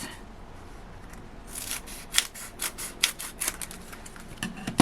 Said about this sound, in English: So what I'm going to do is just cut these into narrow strips